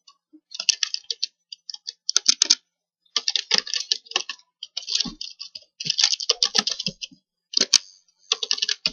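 Someone types an email address on a computer keyboard. Bursts of crisp, close key clicks come in quick runs, separated by short pauses.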